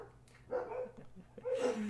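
Dogs bark in two short bursts in the background, a nearby bout followed by a louder one, behind a quiet room with talk before and after.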